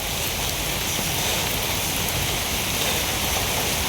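Steady rain pours around a home kitchen as a dark stormy day begins, a dense continuous hiss of drops on surfaces with no pauses and no voices.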